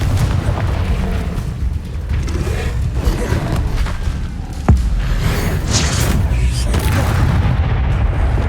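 Booming blasts from the Confringo fire spell in Hogwarts Legacy, a dense rumbling barrage of explosions with one sharp, loud crack standing out midway, sustained heavy low-end impact throughout.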